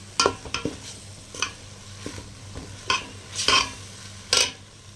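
Turmeric, pepper and other spices sautéing in a pan for chicken curry, with a soft background sizzle broken by repeated sharp scrapes and clinks of a spoon stirring against the pan.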